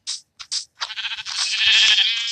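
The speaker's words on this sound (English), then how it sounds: "let's just kill this last sheep for food" A sheep in the Minecraft video game bleats in several short, bright calls, then one longer drawn-out bleat, loud and close with no talking.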